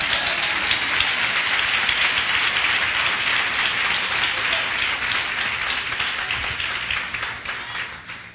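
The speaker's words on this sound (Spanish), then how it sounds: "Dale un aplauso al Señor." A church congregation applauds in praise during a sermon, a loud, dense and sustained burst of clapping that holds steady for several seconds before easing slightly toward the end.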